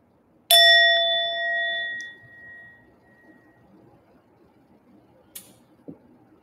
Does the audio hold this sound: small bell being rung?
yes